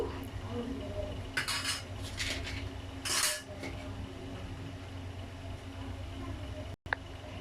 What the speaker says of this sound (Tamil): ஆட் பண்ணிவிட்டு நல்லா மிக்ஸ் பண்ணி விட்டுருங்க